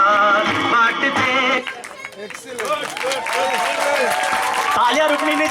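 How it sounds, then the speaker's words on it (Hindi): An audience claps loudly for about a second and a half at the end of a stage performance in Khargone, then the applause gives way to someone talking over fainter crowd noise. "तालियां रुकनी नहीं चाहिए"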